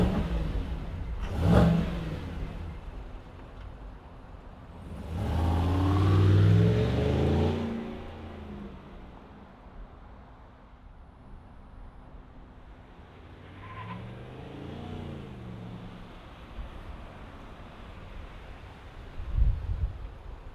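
A 2025 Chevrolet Tahoe V8 engine fires up with a brief crank and catch, then settles into a low idle with a couple of swelling revs, heard from nearby with no talk.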